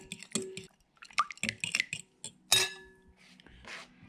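Wet squishing, dripping and the clink of a utensil against a bowl as venison jerky marinade with barbecue sauce and Worcestershire is stirred, in short close irregular bursts with no talking.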